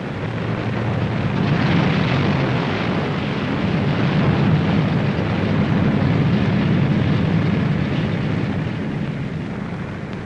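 A loud, continuous roar of B-17 Flying Fortress bomber engines droning steadily for the whole stretch, deep and heavy, with no voices.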